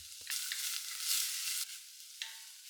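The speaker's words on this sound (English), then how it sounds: "Saute that a bit until they get fragrant" Finely chopped garlic and a small diced onion sizzle in olive oil in a saucepan, a steady close hiss that swells midway and eases off, with a couple of brief stirring knocks.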